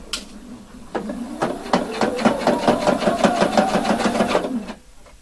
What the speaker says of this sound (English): Now I'm going to stitch it